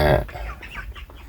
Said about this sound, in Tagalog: Rhode Island manok na ating pinakakain ng hinaluan na niyog